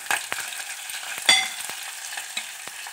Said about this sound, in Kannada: ಸ್ವಲ್ಪ ಫ್ರೈ ಆಗಲಿ ಇದು.